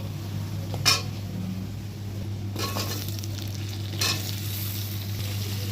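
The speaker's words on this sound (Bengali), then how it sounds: "এই যে ফোড়ন দিয়ে দিলাম শুকনো লঙ্কা তেজপাতা পেঁয়াজ আর গোটা জিরে" Dried red chillies, bay leaf, onion and whole cumin fry in hot oil, giving a steady soft sizzle over a constant low hum. A few brief louder stirring scrapes cut in now and then.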